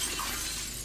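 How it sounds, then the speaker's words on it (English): Glass shatters inside the video game Play the Prey, a short, bright, loud crash with a noisy spray of shards that fills the whole brief moment with no talk over it. "Nice, I like breaking glass."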